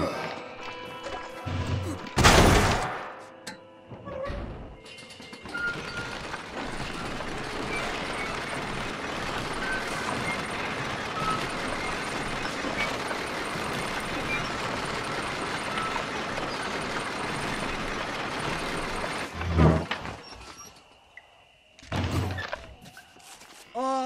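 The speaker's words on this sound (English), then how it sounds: "Load up and I'll engage the gears." Lift gears engaging in the Red Dead Redemption video game: a heavy thunk and clank, then a long steady mechanical grinding rumble of the lift, closing with further knocks and slams.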